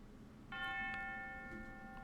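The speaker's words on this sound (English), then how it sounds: "I like using tubular bell for stuff like that" A tubular bell rings out in a music cue mix, one clear metallic strike that sustains and slowly decays over a quiet background.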